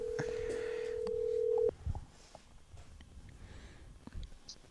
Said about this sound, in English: let's phone him in